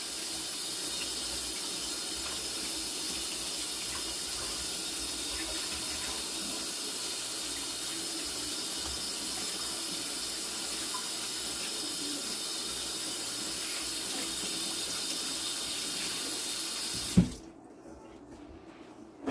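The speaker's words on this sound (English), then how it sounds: "I'm gonna wash my hands because I'm gonna take the pumpkin out of the pot." Tap water runs steadily into a sink while flour is washed off hands in a home kitchen, a continuous close hiss and splash for about seventeen seconds before the flow is shut off abruptly.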